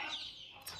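Rooster gives a short, fairly quiet cluck-like call, ending in a brief squawk.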